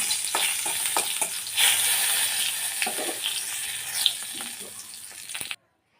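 Chana dal, dried red chillies, bay leaf, garam masala and cumin seeds sizzle in hot oil as a tempering, a loud close frying hiss broken by stirring scrapes and small pops before stopping abruptly.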